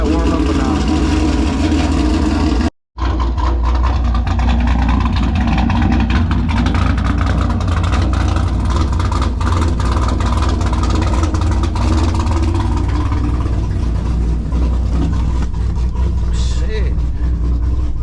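A Whipple supercharged Chevy SS engine idles loud and close while warming up, a steady low rumble holding throughout after a brief cut near the start.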